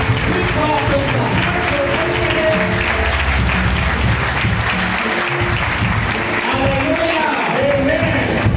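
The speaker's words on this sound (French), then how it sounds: "Encore une fois, acclamons le Seigneur" A church congregation claps and cheers for the Lord during a service, with steady, loud, sustained applause and crowd voices that carry through the whole stretch.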